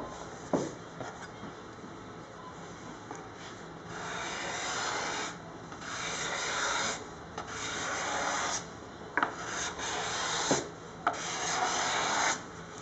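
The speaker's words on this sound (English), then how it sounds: "I don't want to scrape too close to the edges" Steady, close scraping strokes across the wooden top of a Les Paul guitar being built, rasping in repeated passes of a second or two each with short gaps between them.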